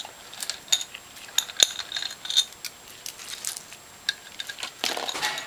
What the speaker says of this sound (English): The next thing we're going to do is take out all the screws in the top and set them aside.